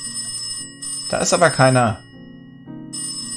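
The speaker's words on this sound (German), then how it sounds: "Oder, ach so, das ist das Telefon." A telephone ringing in the video game Cube Escape: Birthday, with a repeating electronic trill in short on-off bursts, briefly interrupted by someone speaking over it before the ringing resumes.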